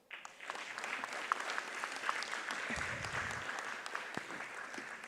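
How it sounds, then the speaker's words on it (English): A conference audience at a research closing session on forced displacement claps in a sustained round, fairly faint and even, with a few sharper claps standing out. "They deserve a proper round of applause."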